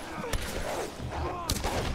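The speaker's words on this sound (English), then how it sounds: "Gunfire." Two sharp bursts of gunfire, spaced about a second apart, crack through the Tomb Raider video game's background ambience and music.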